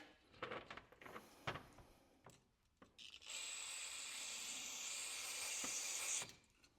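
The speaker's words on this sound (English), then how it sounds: "I'm also going to hit them with a little bit of carb cleaner" Carb cleaner sprayed from an aerosol can into the small jet holes of a Bolens Powermore MTD snow blower carburetor, a steady close hiss lasting about three seconds after some brief handling clicks.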